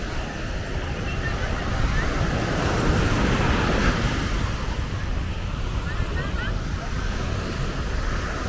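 Ocean surf and gusty wind at Delfines Beach in Cancun, Mexico, form a steady, full roar of breaking water and microphone wind buffeting that swells slightly in the middle, with no clear voices.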